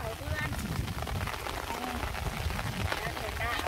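Steady rain falls on a rice paddy field during cold, wet seedling-pulling work, a dense continuous hiss close by, with faint voices murmuring underneath.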